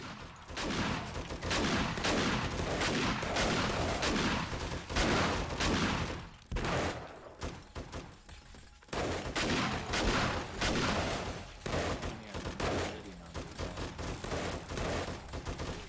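Dense gunfire and automated turret shots during a horde night in 7 Days to Die, loud and nearly continuous rapid bursts with only brief lulls.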